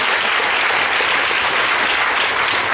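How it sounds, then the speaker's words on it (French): A church congregation claps and cheers in dense, steady applause that fills the room without a break. "Est-ce qu'un saint peut acclamer?"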